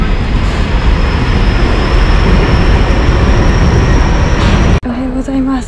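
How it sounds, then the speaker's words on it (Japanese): A pink Keio Inokashira Line train passes close by as a loud, steady roar and rumble that fills the scene, then cuts off abruptly near the end. "さてほら電車が来ました。"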